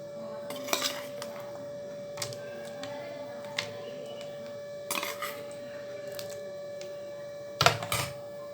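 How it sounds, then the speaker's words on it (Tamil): A spoon stirs green pea payasam with fried coconut and nuts in a metal pot, making sparse, light clinks and scrapes spread unevenly across the stretch. The sounds are quiet over a faint steady hum. "சேர்த்திட்டு இதை நல்லா நம்ம கலக்கி கொடுக்கலாம்."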